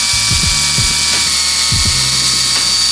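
A power drill bores into the body of a Honda Civic Si to mount a Subaru spoiler, giving a couple of short revving bursts of whirring and grinding over a constant loud hiss.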